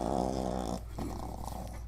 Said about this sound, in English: Puppy yawn's coming.